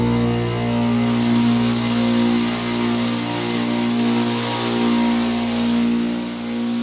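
Drywall texture sprayer with a sealed hopper running after being switched on to spray orange peel texture, a loud steady motor drone with a strong low hum and a slight rise and fall.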